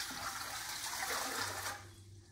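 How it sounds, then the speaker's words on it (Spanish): Water pours in a steady rushing stream as four cups go into a pot to make Guatemalan hen pulique, close and continuous before it stops abruptly near the end. "Aquí voy a poner 4 tazas de agua"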